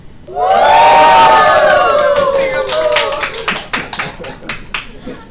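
A crowd of teachers in Singapore bursts into loud cheering and whooping, then settles into scattered clapping that fades toward the end.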